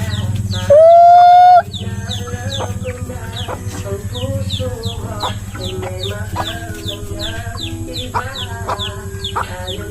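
Small chicks in a home keep up steady, rapid high peeping from close by, with a brief loud crowing-like cry near the start and a constant low hum in the background.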